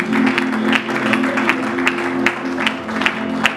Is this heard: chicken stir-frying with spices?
no